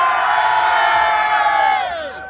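A large live concert crowd in Tanzania cheers and shouts loudly and continuously, a dense roar of many voices that fades slightly at the end.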